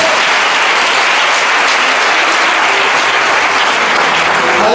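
A church congregation breaks into loud, sustained applause in praise of the Lord. The clapping is dense and close, holding steady throughout with no speech over it.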